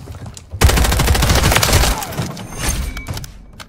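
Rapid automatic gunfire in the Call of Duty MW3 free-for-all mode, a loud, dense burst of shots rattling continuously for over a second, then further bursts and impacts fading out.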